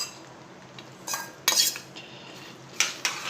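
A spoon scrapes and clinks against a pot while fried cluster beans and potatoes are stirred into a salted gravy, giving a few short metallic clatters with quiet gaps between them.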